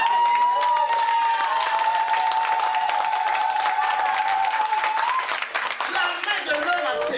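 A church congregation claps and cheers during a worship service. The dense, continuous applause is mixed with a sustained voice and crowd noise, and it thins out toward the end.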